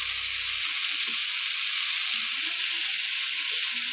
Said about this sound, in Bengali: আমার সবজিটা প্রায় কষানো হয়ে গেছে, টমেটোটাও গলে গেছে।